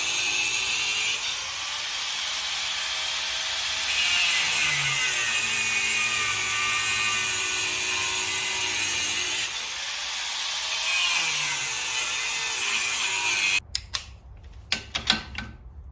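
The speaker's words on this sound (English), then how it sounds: "So I'm just gonna get an angle grinder out and cut them off." An angle grinder cuts rusted U-bolts on a Jeep Cherokee XJ rear leaf spring, a loud continuous abrasive grinding that runs for most of the clip with a short dip midway, then stops into a few scattered metallic clanks.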